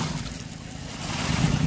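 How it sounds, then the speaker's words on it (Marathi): Large waves rolling on open water after days of heavy rain, with a strong current and boats nearby; a steady, loud wash of surf and wind roars continuously, swelling slightly toward the end. "चांगल्या मोठ्या लाटा आहे आज"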